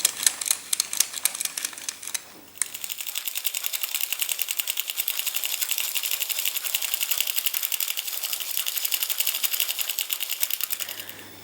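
A small hand-cranked knitting mill whirs with rapid, even mechanical clicking, steady and close, after a brief shuffle at the start.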